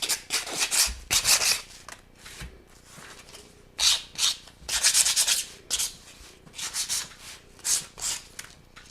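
Hand sanding a painted piece with sandpaper to distress it, heard as repeated bursts of scratchy rubbing strokes in uneven rhythm, close and fairly clear, with short pauses between passes and no talking.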